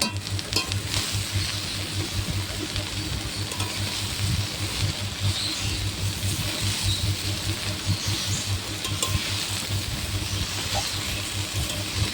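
Pumpkin leaves and onion are stirred with a spatula in a frying pan over a wood-fired stove, giving a steady, continuous sizzle and hiss with faint scraping throughout and no talking.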